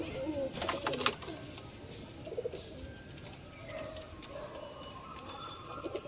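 Pigeons in a loft give low, soft coos amid rustling and scattered sharp clinks and flutters, fairly quiet and close, with some faint voices in the background.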